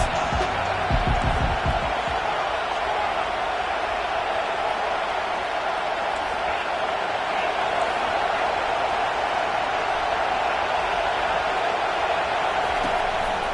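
A stadium crowd in the College Football 25 video game keeps up a steady, moderately loud roar of cheering behind the defense on a third down, with a few faint thumps early on.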